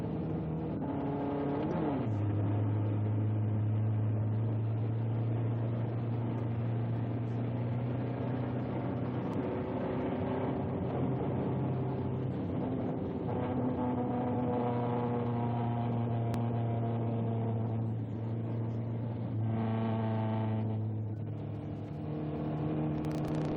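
A Ford Mustang 1962 concept sports car engine roars steadily as it laps a road course, pitch rising and falling with gear shifts and acceleration, loud and close throughout.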